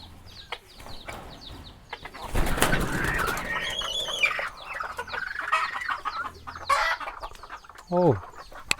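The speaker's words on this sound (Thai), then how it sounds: "เนี่ยเสียงขั้นประมาณนี้เด้อ" A young rooster crows nearby in short, strained bursts, with clucking and cooing from other fowl in between and brief talk in the background.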